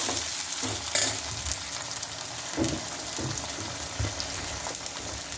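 Onion and tomato fry in a pan with a continuous close sizzle and crackle, with occasional stirring scrapes and no talk.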